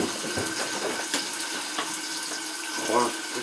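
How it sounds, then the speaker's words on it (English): Water from a hose runs down an old washing machine drain pipe, a steady close trickling and gurgling flow with no break throughout. "I got water running down it from the hose"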